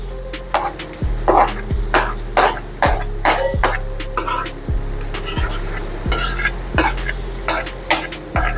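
Ingredients for homemade sherva fry in a pan, sizzling steadily while a spoon stirs in a regular rhythm, scraping and tapping the pan about once a second, close and clear.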